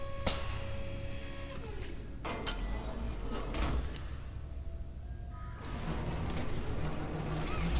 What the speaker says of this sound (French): La porte s'avance.